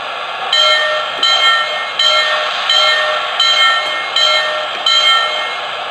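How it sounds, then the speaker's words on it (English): Bell from an American Flyer/Lionel toy train sound boxcar rings loud and close in a steady repeating clang, about eight even strokes over a few seconds. "Here's the bell"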